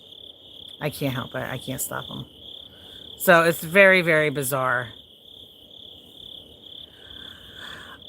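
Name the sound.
crickets chirping at night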